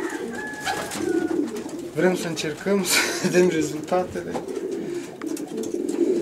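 Racing pigeons in a spacious upstairs loft housing about 40 birds coo in soft, repeated throaty rolls close by, while people talk over them throughout.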